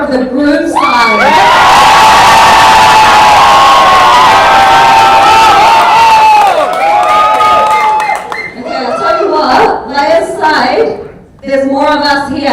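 Loud crowd of wedding reception guests from the groom's side cheering and whooping together for several seconds, then breaking into scattered shouts, laughter and chatter as the roar fades.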